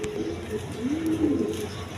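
Red Gopalganj pigeons giving a soft, low rolling coo, close by over a faint background hiss.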